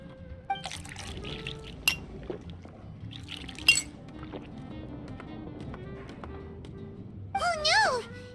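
Juice being poured into a glass in Genshin Impact, a rising gurgling fill near the end after scattered clinks and game effects, with characters talking throughout.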